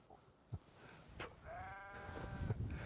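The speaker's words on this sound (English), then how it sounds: "if these sheep will shut up" Sheep bleat in a field, a few wavering cries coming from a moderate distance, with faint thumps and outdoor background noise between them.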